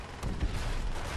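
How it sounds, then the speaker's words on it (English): A grenade blast in Call of Duty: World at War, a deep, rumbling boom that swells near the start and rolls on as continuous low battlefield noise for about a second. "Oh, Jesus Christ, that's another grenade."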